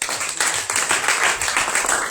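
A church conference crowd applauding to acclaim the Lord Jesus, a thick, continuous patter of clapping hands, loud and close, with no pauses.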